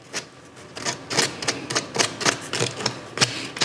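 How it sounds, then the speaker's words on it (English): Emery cloth rubbed by hand over a plastic surface on a 100 Series Land Cruiser during spark plug replacement, giving a series of quick, close, scratchy strokes in an uneven rhythm. "I'll just rough up the surface with a little bit of emery cloth"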